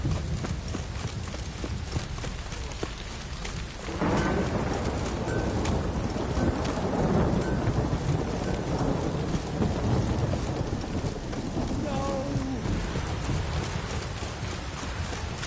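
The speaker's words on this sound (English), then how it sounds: "This downpour's a bastard, it is." Heavy downpour drenching the world of the video game Witcher 3, a steady roar of rain that swells after a few seconds, with low rumbling thunder beneath and no talking.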